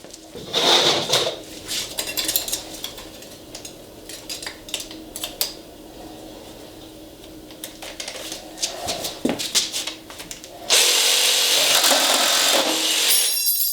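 A KIMO reciprocating saw cuts wood with a rapid rattling buzz and clattering knocks that come in uneven bursts, then a louder, steady whine of the saw running near the end.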